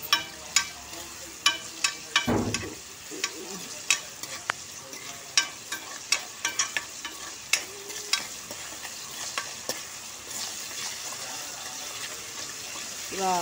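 Ivy gourd pieces frying in a pan with a light sprinkle of salt, a steady broadband sizzle with frequent sharp pops and utensil clicks, plus a brief low thump near the start.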